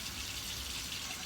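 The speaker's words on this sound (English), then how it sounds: "Rinse my hands." Hands rinsed under a running kitchen tap, a steady, soft hiss of flowing water continuing unbroken for just over a second, with no voices.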